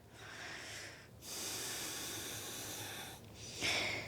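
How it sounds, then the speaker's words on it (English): A slow, deep breath during a yoga flow, heard close and soft as a long airy hiss of inhalation and exhalation, with short pauses between breaths. "Last breath."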